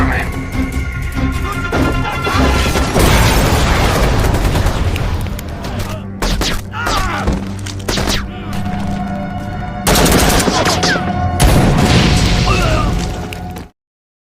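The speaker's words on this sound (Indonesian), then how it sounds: "terdengar suara tembakan dari kejauhan. Situasi langsung berubah jadi kacau balau. Pertempuran pecah" Film battle erupting with distant gunfire turning into chaotic fighting: dense bursts of shots and booming explosions fill a loud, sustained mix layered with music and effects until an abrupt cutoff.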